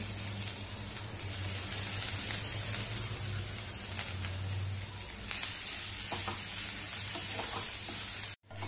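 Fresh grated coconut sautéing in hot ghee, a steady close sizzle with soft stirring scrapes throughout, ending in a brief knock.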